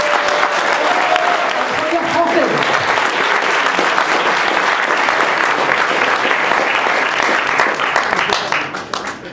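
A cinema audience at a Paris film screening gives sustained, loud applause for several seconds, dense and even, with a brief voice heard early on and the clapping fading at the end.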